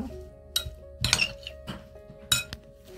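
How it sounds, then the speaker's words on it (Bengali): Utensils clink sharply against a bowl while cheese and filling are mixed for a roti mini roll, giving several distinct metallic chinks spaced irregularly over a quiet background. "ভালো করে এগুলোকে মিশিয়ে নেব।"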